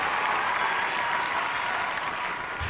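An audience at a national show choir championship applauds the top three finalists, a steady, even roar of many clapping hands with no break, heard at a moderate distance and fairly muffled.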